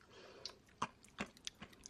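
Close, quiet chewing of fun yogurt mixed with colorful crunchy candies, several distinct crisp crunches in an irregular rhythm over soft mouth noise.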